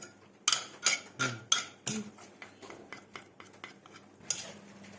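Jaew dip with fish sauce being pounded and mixed in a bowl: a string of sharp, close clinks and knocks of utensil against the bowl, irregular and clustered at first, then sparser, alone without talk.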